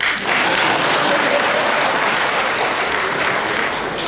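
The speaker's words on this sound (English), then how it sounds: "I thought you would clap." Loud, dense clapping from a large audience fills the room at a steady level throughout, many hands together with no talk over it.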